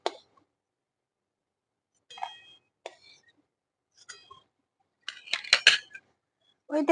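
Ghee-fried cashews and raisins lifted out of a pan over a clay stove for basmati pulao, heard as several brief metal utensil clinks and scrapes spaced out against near silence, with a busier burst of clatter toward the end.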